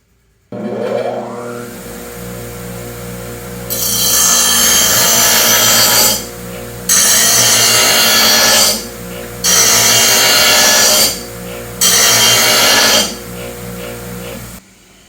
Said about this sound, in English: I just need to take the grinder and grind off this edge just a little bit till this is level